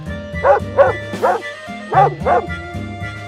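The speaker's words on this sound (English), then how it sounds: "dog," A dog barks about six times in a loose rhythm, close and fairly loud, with a light musical bed running underneath.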